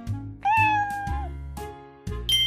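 A cat meows several times in a row, clear and close, with drawn-out tonal cries separated by short pauses and no talking.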